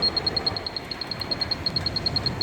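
A NICE Motx R gate keypad gives its correct-code confirmation tone, a steady run of short, evenly spaced high beeps repeating throughout over faint background hiss.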